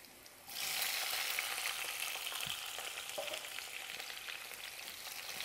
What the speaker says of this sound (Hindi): जीरे को लाल होने पर हम इसमें मिर्च डाल देंगे, हरी मिर्चों को जो काट कर रखा है।